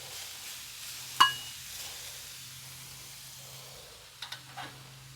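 Large shrimp beginning to cook on a recteq Matador griddle, giving a faint steady sizzle and hiss with a sharp metallic clink early on and a few soft utensil taps near the end.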